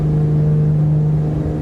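A piston airplane engine held at takeoff power in a flight simulator, a steady loud droning hum with a strong low tone and no break in pitch.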